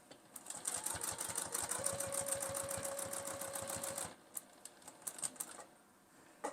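A sewing machine stitching around the edges of a reusable makeup remover pad, a fast rhythmic close run of needle strokes for about four seconds, then short stop-start bursts of a few stitches.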